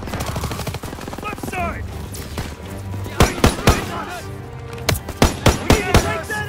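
Bursts of machine-gun and rifle fire in a World War II beach assault in Call of Duty WW2, sharp repeated cracks clustering in rapid volleys, loud and close, with a soldier's voice calling out over the gunfire.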